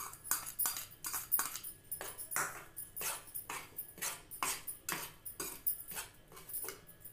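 Chickpeas go into hot oil in a cooking pan for chana samosa filling, heard as a steady series of close metallic clinks and scrapes of a spoon against the pan, with no talking.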